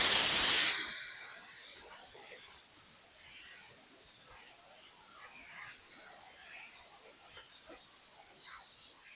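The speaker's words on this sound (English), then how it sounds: "I use the air compressor a lot to blow off the items that I've just sanded." A sharp blast of compressed air from an air compressor nozzle blows dust off freshly sanded thrift-store decor pieces, a loud initial burst settling into a steady hiss that runs throughout.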